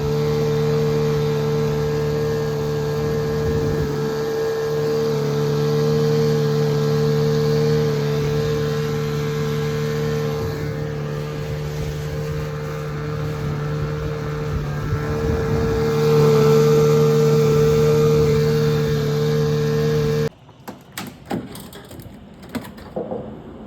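An outboard motor on a 1980 John boat drones steadily and loudly for about twenty seconds with a constant hum, then cuts off abruptly, leaving faint rustling and knocks.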